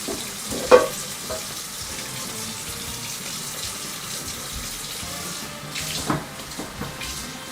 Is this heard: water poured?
yes